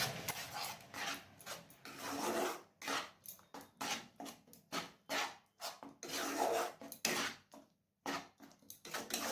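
A spoon stirs yogurt, cashew and almond paste into a matar paneer curry, making repeated rasping, scraping strokes in an uneven rhythm with short pauses between them, close and fairly quiet.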